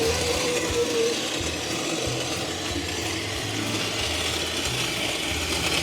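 A manual coffee grinder driven by a gate motor grinds beans continuously, a steady mechanical whir with a rhythmic low rattling churn, loud and close throughout.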